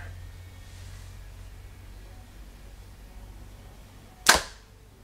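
A single sharp release from a Hoyt Axius compound bow, a short 29.5-inch axle-to-axle hunting bow, shooting an arrow: one crisp snap near the end, close and distinct over a quiet, faintly humming background.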